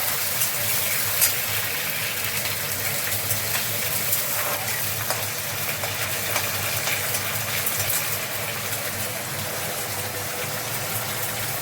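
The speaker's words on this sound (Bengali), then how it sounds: "দিয়ে রসুনটাকে এবার ভালো করে ভেজে নেব" Garlic frying in hot mustard oil with curry leaves and green chillies, a steady, dense sizzle and crackle that holds at an even loudness throughout, close by and with no voices over it.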